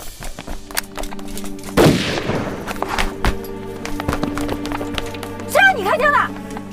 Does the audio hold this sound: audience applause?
no